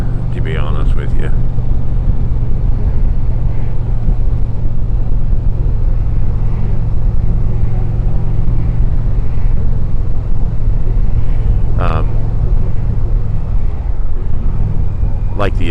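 A 2025 Indian Chieftain motorcycle engine rumbles steadily and close during a test ride, a continuous low drone with wind noise, while someone talks over it throughout.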